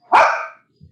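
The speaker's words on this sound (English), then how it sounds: "Nice little dogs." A small dog gives a single sharp bark, close and clear, followed by a faint soft thump, with no one talking.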